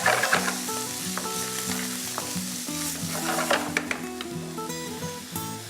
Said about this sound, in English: I'm going to use some olive oil and saute the onions in that.